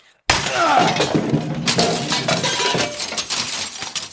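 An orrery is smashed, a sudden loud crash of breaking glass followed by several seconds of tinkling, clattering shards and debris that fade gradually.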